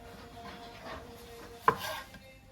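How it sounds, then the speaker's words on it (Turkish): A single sharp knife chop through a pickle on a cutting board stands out against quiet kitchen background noise. "Üzeri için 2 adet turşu doğrayıp"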